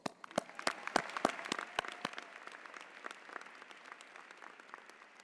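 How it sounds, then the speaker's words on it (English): Graduates applaud at a Rutgers School of Business–Camden convocation ceremony, with a few sharp claps leading into a steady crowd applause that thins and fades out, heard from some distance and fairly quiet. "For that, give yourselves an applause."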